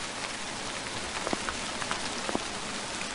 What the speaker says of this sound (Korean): 또 비야.